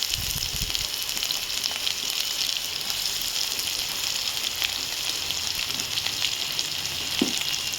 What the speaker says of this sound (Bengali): পেঁয়াজটা ভেজে ফিরছি।